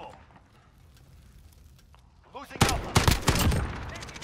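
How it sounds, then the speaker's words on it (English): FAL rifle gunfire in the multiplayer game Modern Warfare, hardcore mode: after a quiet stretch, a burst of loud, sharp shots cracks out in quick succession, close and punchy. "Two shots on the FAL hardcore."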